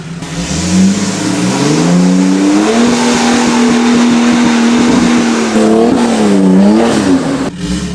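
An LS V8-swapped Toyota 4Runner climbing a hill: loud, close engine roar held at high revs, rising and dipping in pitch as it strains, continuous throughout.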